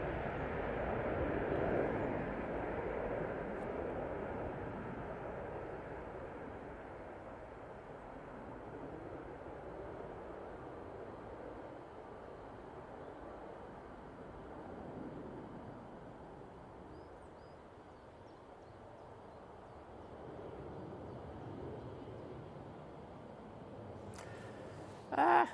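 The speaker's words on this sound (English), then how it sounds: "we got the Jet2 A321 Neo off to Larnaca" A Jet2 Airbus A321neo takes off from Manchester Airport, a distant, steady jet engine roar that swells and slowly fades, faint and continuous, ending with a brief close knock.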